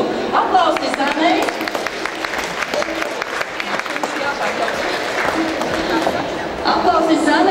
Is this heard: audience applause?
yes